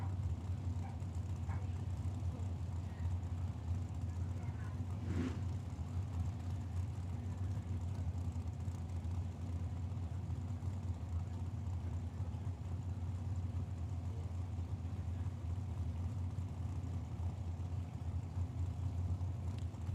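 At a drag strip, a Mustang and a dragster idle together as they slowly pull in, their engines making a steady low rumbling drone that continues unbroken and fairly loud throughout.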